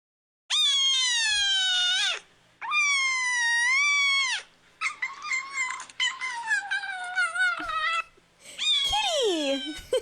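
A cat meows in a played video, four long, loud, rising-and-falling cries in close succession, the third broken into shorter wavering calls, with brief silences between them.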